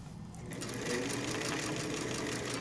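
A sewing machine stitches a side seam pocket on a garment, a close, steady, fast mechanical whirr that picks up after a brief quieter start and runs evenly throughout.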